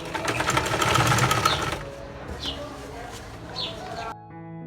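A household sewing machine stitching a seam on fabric for a sewing machine cover, a loud dense mechanical whir for the first two seconds, then stopping, with quieter handling noises and a few faint chirps afterward.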